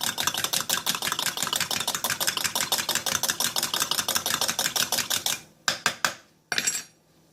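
Rapid, steady clicking of a whisk stirring cornstarch and water in a bowl, a fast even rhythm close by that stops abruptly, followed by a few isolated taps.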